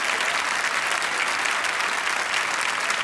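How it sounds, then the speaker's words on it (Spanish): A studio audience on a 1985 television show gives a guitar player a dense, even round of applause that stays loud and unbroken throughout. "Un aplauso."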